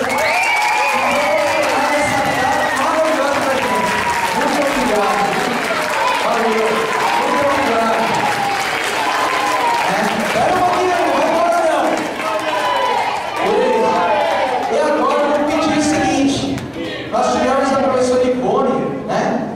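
Applause and cheering from a large crowd honoring teachers, loud and continuous throughout, with voices shouting over the clapping.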